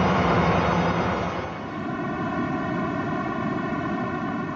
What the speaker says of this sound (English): This is the opening note of hit number 10, the audio afterglow of the Big Bang.